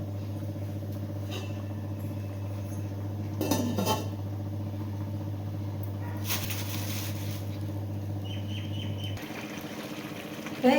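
Metal lid clanks onto a cooking pot of mushroom curry, a short clatter of pot and cutlery sounds over a steady low stove hum, close and fairly loud, no talking.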